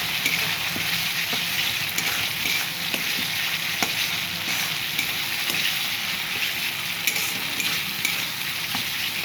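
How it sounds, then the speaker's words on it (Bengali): Ground spices with Kashmiri chili powder fry in hot oil, a steady broadband sizzle with occasional soft clicks of stirring, close and continuous with no talk. "মশলা ভাজা হয়ে গেছে, মশলা দিয়ে তেল ছেড়ে দিয়েছে।"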